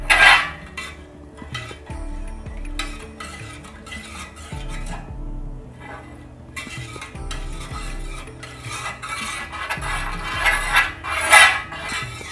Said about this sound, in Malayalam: ഒരു ലിറ്റർ പാല് കൈയെടുക്കാതെ ഇളക്കിക്കൊണ്ടിരിക്കണം